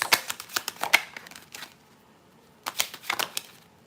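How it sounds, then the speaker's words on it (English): Tarot cards being shuffled by hand at close range: two quick bursts of rapid riffling flutters separated by a short quiet pause, with no talking. "shuffle a little less aggressive"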